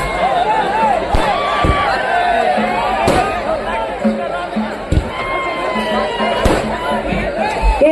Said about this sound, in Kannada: ದಯವಿಟ್ಟು ಜೋರಾದ ಚಪ್ಪಾಳೆ ಬರಲಿ ಪ್ಲೀಸ್ ಎಲ್ಲ ಕಲಾವಿದರಿಗೆ